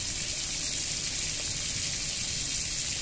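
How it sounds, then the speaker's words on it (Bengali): Shrimp and onion fry in a pan with a constant, close, bright sizzle that holds steady and loud for a few seconds without pause. "চিংড়ি মাছের সাথে পেঁয়াজটাকে ভালো করে ভাজবো।"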